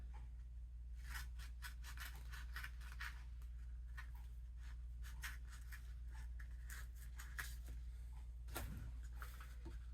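Wrap material for a saber sheath being cut, giving soft, quick scratchy snips and rustles over a steady low room hum, fairly faint and close, with no speech.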